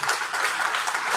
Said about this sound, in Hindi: मैं चाहूंगी सभी तालियों के साथ सर का स्वागत करें।